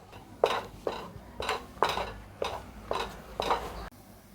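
Mango barfi mixture being stirred and pressed in a pan, giving about seven regular scraping, clinking strokes of a spoon against the metal, each roughly half a second apart, close and fairly quiet.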